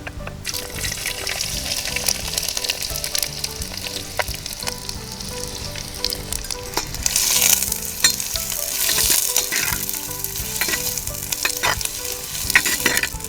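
Five or six roughly diced onions fry in a pan as the base for a mutton curry, giving a steady, close sizzle with stirring that swells midway, with no talk.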